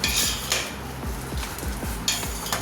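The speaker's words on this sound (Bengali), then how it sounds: "আস্তে আস্তে দেবো আর নাড়াতে থাকবো" A spoon stirs custard for a fruit salad in a pan, making repeated close scraping and clinking strokes against the metal in a steady rhythm, with no talking.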